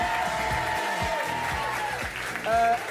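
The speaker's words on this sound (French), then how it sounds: "La petite Nadège, qu'on applaudit bien fort." A French TV studio audience applauds a young guest on a magazine show, steady clapping under music and a voice that talks over it.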